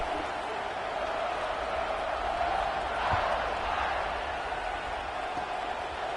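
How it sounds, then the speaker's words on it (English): A stadium crowd in the College Football 26 video game murmurs as a faint, continuous wash of distant voices, steady and unbroken with no distinct cheers standing out. "this crowd is buzzing after that last score"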